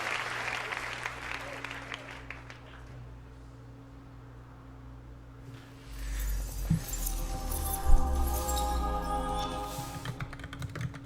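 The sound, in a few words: audience cheering at Ubisoft E3 2017 presentation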